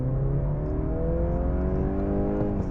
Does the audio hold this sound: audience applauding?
no